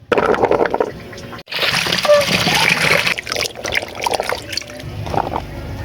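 Cut papaya being washed by hand in water, with splashing, sloshing and trickling in bursts, close and fairly loud, broken by a short pause.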